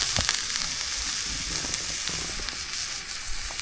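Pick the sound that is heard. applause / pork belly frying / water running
pork belly frying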